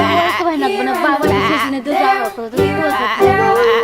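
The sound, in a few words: voices imitating sheep bleating in Old MacDonald song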